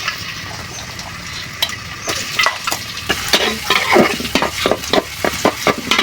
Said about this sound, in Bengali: পেঁয়াজ কাঁচামরিচটা আমি ভেজে নিব।